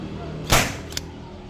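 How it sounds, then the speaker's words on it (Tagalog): A nail gun fires a single sharp shot, driving a nail into material, loud and close with a brief percussive burst and a faint second click after it. "ngayon subukan natin tong nail gun. Kung gaano kalakas guys."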